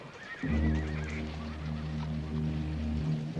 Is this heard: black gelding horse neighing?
yes